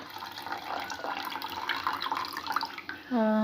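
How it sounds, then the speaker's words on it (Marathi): Soaking water drains off rice in a steady splashing trickle, close by, ending with a brief pitched tonal squeal as the flow stops. "तर हे पाणी आपण काढून घेऊयात"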